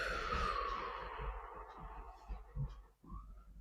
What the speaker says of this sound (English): And exhale through your mouth